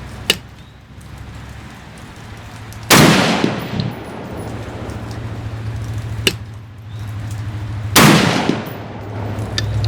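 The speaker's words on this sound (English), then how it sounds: "I'm going to shoot at that same dot." Two loud rifle shots crack close by at a target, a few seconds apart. Each is followed by a brief echo, and fainter clicks are heard between them over a low steady hum.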